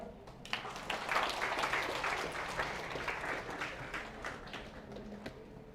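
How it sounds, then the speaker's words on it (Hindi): A class applauds a student during an accounts lecture, a steady patter of many hands clapping at moderate distance with no talking, swelling early and tapering off toward the end. "पीयूष के लिए तालियां."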